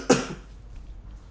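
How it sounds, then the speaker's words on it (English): A single hard, forceful cough made on request during a cranial nerve examination, sharp and close, followed by quiet room tone. "Go ahead and make like a hard cough"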